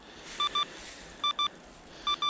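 An avalanche transceiver beeps as its signal strengthens, emitting paired sharp electronic beeps repeated three times at a steady rhythm, close and clear over faint outdoor hiss.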